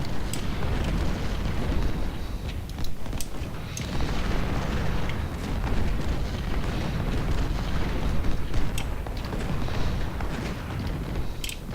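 Cannons fire again and again in a Malvern Hill battle game, a thick rumbling barrage with frequent sharp cracks and booms, some near and some distant, filling the whole stretch with no talk.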